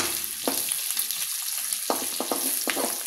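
Pork neck sizzles steadily in a frying pan, a dense crackling hiss with occasional sharper pops and spatters close by.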